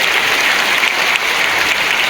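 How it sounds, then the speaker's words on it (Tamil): A crowd at a school Teachers Day celebration in 2025 claps for the children and their teachers, with dense, even applause sustained throughout. "அதற்கு பயிற்சி கொடுத்த ஆசிரியர்களுக்கு சேர்த்த கைத்தட்டல் வழங்கலாம்."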